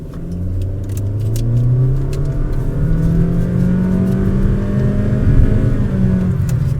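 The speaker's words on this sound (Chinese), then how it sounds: "不过你在重踩油门起步加速，它会有 Turbo Lag 的这个感觉" A Honda WR-V with a non-turbo engine and CVT gearbox pulls away hard from standstill in sport mode, its engine note droning and rising steadily as it gains speed, loud and close, with no talking.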